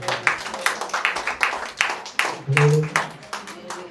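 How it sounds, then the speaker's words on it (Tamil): A church congregation at a Sunday service claps hands in a steady rhythmic beat, loud and close, while a preacher's voice talks over it. "கைத்தட்டி ஆண்டவருக்கு சொல்றேன்."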